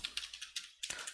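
Fast typing on a computer keyboard, a run of crisp clicks in uneven bursts with a brief pause before another flurry, close and fairly quiet.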